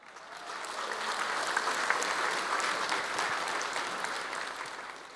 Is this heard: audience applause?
yes